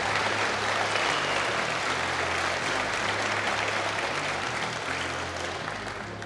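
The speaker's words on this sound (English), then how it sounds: "massive round of applause for Di, please." An audience at a fitness event in Wales claps, dense, loud applause that holds steady for several seconds and tapers slightly at the end.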